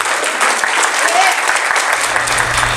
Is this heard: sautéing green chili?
no